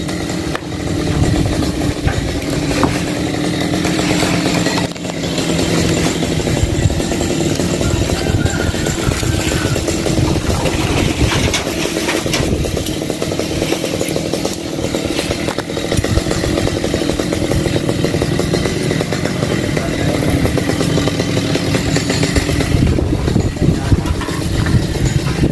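A chainsaw cuts through an old jackfruit tree on a rooftop, its engine snarling loud and continuous with small rises and dips in revving as the blade works through the wood.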